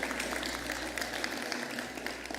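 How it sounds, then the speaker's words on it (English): Congregation clapping at a celebration service, a steady dense wash of many hands filling the room, fairly distant and continuous with no speech over it. "And you may clap."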